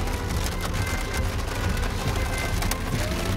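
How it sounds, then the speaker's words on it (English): Steady rain drums on a vehicle throughout a road trip in a rainstorm, a dense, even patter close by with no talking. "It's very rainy."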